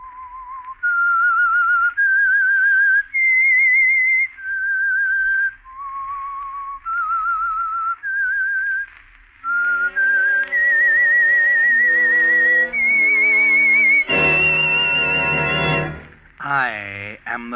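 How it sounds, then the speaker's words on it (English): Whistled theme tune of The Whistler radio mystery program, a clear solo melody of long sliding notes that an orchestra then joins, building to loud sustained chords and a final swell. "That whistle is your signal for the Signal Oil Program"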